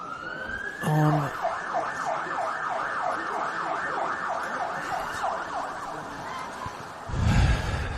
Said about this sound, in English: some sirens in the vicinity.